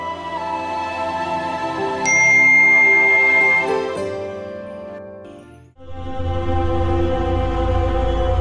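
A phone rings with a bright chiming melody, cutting off briefly before a low hum and the ringtone continuing.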